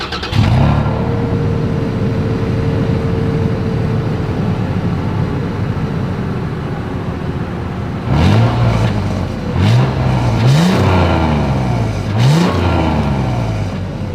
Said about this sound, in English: exhaust clip.